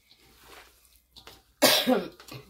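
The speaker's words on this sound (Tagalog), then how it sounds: "Pasensya na po kayo, inuubo pa rin ako." A cough bursts out loud and close after a quiet stretch of small kitchen handling sounds, a harsh, rough cough with a short follow-up, from a person with a week-long cough.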